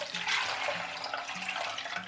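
Three cups of water poured steadily into a soup pot for prosciutto and bean soup, a continuous splashing gush with a faint low hum beneath it, no talk.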